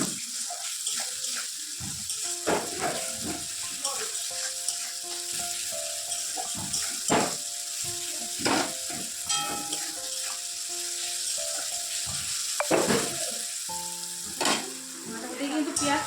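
Onions and tomatoes fry with salt in a pan for chow mein, giving a steady, bright sizzle throughout, broken by frequent scraping and clinking of a spatula as the mixture is stirred.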